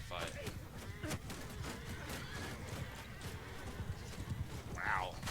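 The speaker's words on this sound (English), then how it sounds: "listen to all those horses complaining about all of the arrows in their heads" Video game battle horses with arrows in them whinnying and neighing among hoof clatter, while someone talks over the top through most of it.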